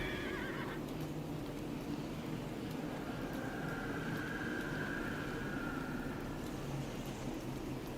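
A horse whinnies in a drawn-out call in the video game Neverwinter, over a steady, dense background of rumbling game ambience, with no talking.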